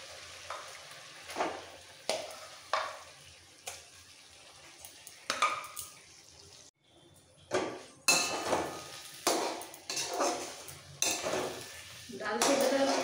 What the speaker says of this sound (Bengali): ডাল সেদ্ধটা মশলার সাথে ভালো করে মিক্স করে দিতে হবে